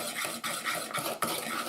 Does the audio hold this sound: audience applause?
no